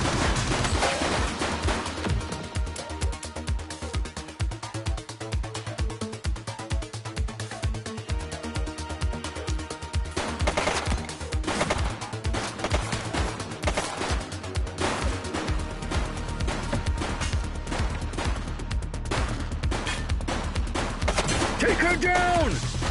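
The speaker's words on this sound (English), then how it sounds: "She's shooting!" Sustained close gunfire in the police game The Precinct, dense fusillade of shots with heavy booms and crashes, voices shouting now and then over the shooting.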